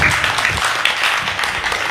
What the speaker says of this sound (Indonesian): boleh kita tepuk tangan sekali lagi